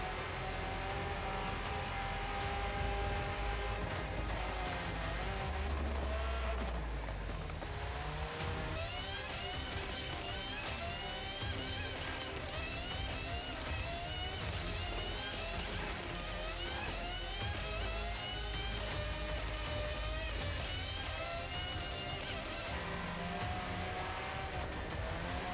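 An A-Class Ford Focus rally car in Forza Horizon 5 drives a custom circuit with a continuous engine roar, revs climbing and dropping through gear shifts, alone without talk.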